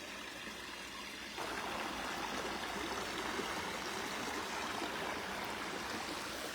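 Steady broadband rush of a waterfall at a temple outing, continuous and fairly loud from close by, stepping up in intensity after the first second and a half, with no voices over it.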